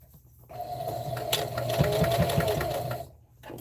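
A sewing machine stitches the edge of a dish drying mat in one close, steady whirring run of about two and a half seconds, with a few soft clicks partway through and quiet pauses before and after.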